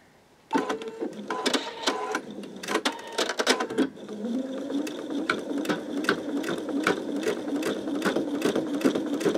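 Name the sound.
embroidery machine stitching at lowest stitch speed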